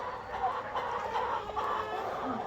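Roosters cluck softly and continuously at a tiger rooster farm, a faint mix of several birds close together with no other distinct sounds.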